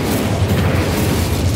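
The Incendio fire spell cast in the video game Hogwarts Legacy gives off a loud, continuous roaring whoosh of flame that holds steady throughout.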